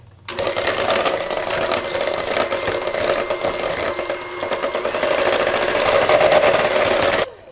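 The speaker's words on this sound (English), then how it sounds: "Now we're going to mix together our butter and our eggs with our hand mixer until it's well combined." Handheld electric mixer beating butter and eggs for a pineapple upside-down cake, a steady close motor whir with a slight shift in pitch as it works through the batter, running continuously for about seven seconds before cutting off.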